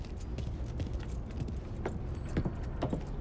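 Car keys jangle in short metallic bursts in Mafia 3 video game, repeated irregularly over a low rumbling vehicle background, close and fairly clear.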